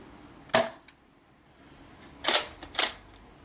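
A Nerf Kronos blaster fires darts with three sharp, airy whooshes: a single shot, a pause, then two shots in quick succession, close and fairly loud.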